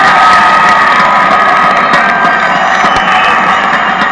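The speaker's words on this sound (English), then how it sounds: "the sold-out crowd here at the JLC gave their OHL champions" A sold-out crowd at a hockey arena stands and cheers for its OHL champion team, a loud, sustained roar of applause, whoops and shouting that fills the whole stretch without a break.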